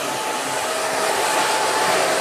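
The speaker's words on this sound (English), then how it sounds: "It's the best blow dryer in the world." An eco-friendly blow dryer runs steadily and loudly, a continuous whooshing airflow that holds at an even level throughout with no voices.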